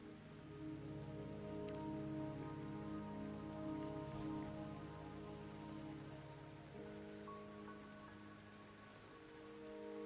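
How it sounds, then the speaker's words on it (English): Steady rain falls in the video game Wuthering Waves, a continuous dense patter lasting throughout, with sustained tonal music playing underneath. "Don't worry, the rain won't last much longer."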